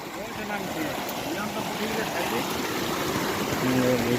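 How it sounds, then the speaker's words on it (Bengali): Water rushing steadily through a bamboo fish trap into a net in a flooded field, a continuous close gushing flow with faint voices in the background. "মাছের শিয়াড়া দিয়ে জলের ঘর থেকে নামানো হচ্ছে, আর জলের সঙ্গে মাছ এলে সেটি জালে এসে পড়ছে"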